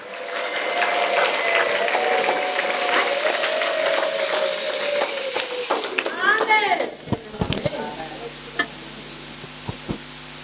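A church congregation applauds for Jesus with sustained, dense clapping for about six seconds, then the applause thins into scattered claps as a voice speaks over it.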